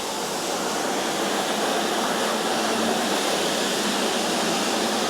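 A cleaning machine in a tack room running with its brush, water and vacuum switched on, making a loud, steady, broadband rushing whoosh throughout with no voices.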